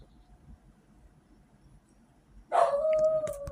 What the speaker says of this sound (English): I'm so sorry about the fucking dog